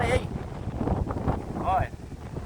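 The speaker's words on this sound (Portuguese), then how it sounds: "Olha aí, ventando forte." Strong wind batters the microphone on the Araguaia River during a kayak trip, a rough, gusting roar with uneven buffeting throughout. A voice briefly cuts through the noise.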